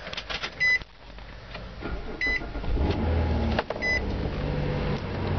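A 2007 Nissan Quest 3.5S minivan starts on a cold day. A few electronic chimes come first, then the engine cranks, catches and settles into a steady, fairly loud idle.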